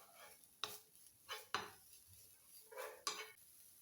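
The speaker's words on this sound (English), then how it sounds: "I give it another stir." Stir-fry of minced meat and chopped onions for Ghanaian meat pie filling being stirred in a pan, with four or five distinct scraping clinks of a utensil against the pan over a quiet, faint sizzle.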